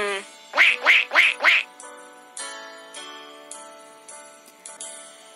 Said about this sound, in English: The ducklings all said, "Quack, quack,"